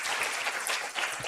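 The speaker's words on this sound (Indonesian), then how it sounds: "kita berikan tepuk tangan dulu atas kehadiran Bapak" Brief burst of audience applause for a deputy minister at a university student send-off ceremony, dense clapping from a crowd lasting about a second.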